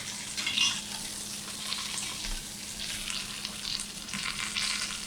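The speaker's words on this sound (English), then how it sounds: "I'm just going to heat this a little bit and get my spatula to check the browning" Food sizzles and browns in a heated pan for meatloaf, with a steady close frying hiss and the faint scrape of a spatula checking underneath.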